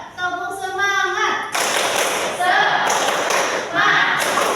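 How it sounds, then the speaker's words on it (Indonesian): A class performs a rhythmic clapping chant during a microteaching lesson, with young voices chanting between bursts of sharp, patterned claps and thumps, loud and close. "Kita tepuk semangat lagi."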